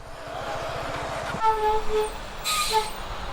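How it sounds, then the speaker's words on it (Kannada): A train rumbles past near Chandapura with rhythmic wheel clatter, then a sustained horn sounds in two loud blasts. "ಅಲ್ಲಿ ನೋಡಿ ಟ್ರೈನ್ ಪಾಸ್ ಆಗ್ತಿದೆ"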